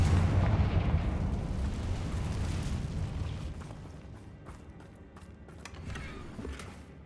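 A Confringo blasting spell exploding in Hogwarts Legacy, a heavy rumbling boom that starts loud and close, then rolls and fades into crackling debris over several seconds.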